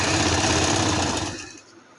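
A sewing machine stitches trouser fabric with a rapid, continuous mechanical whir and clatter, then slows and fades near the end as the stitching stops.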